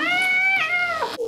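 A cat yowls loudly up close in one long, drawn-out wail that bends in pitch before breaking off, with no talking.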